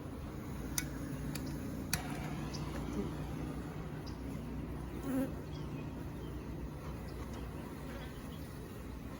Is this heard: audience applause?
no